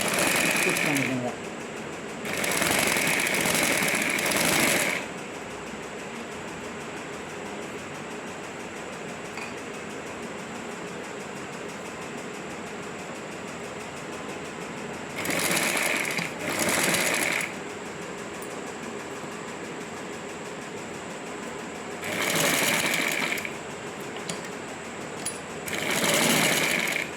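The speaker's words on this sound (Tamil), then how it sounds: "ஸ்டிச் பண்ணிடுங்க." Sewing machine stitching around the back neckline of a blouse, running in four short bursts of a few seconds each with quieter pauses between them.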